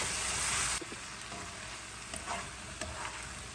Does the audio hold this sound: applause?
no